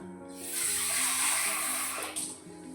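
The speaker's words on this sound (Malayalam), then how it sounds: "കുറച്ച് വെള്ളം കൂടെ നമുക്ക് ഒഴിച്ചു കൊടുക്കാം" Water is poured into a simmering sardine tamarind curry (mathi puli), a steady broad hissing gush that builds, holds for about two seconds and then tapers off, with a faint low hum underneath.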